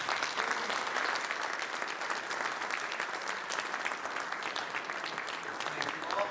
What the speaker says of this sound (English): One last round of applause for our candidates.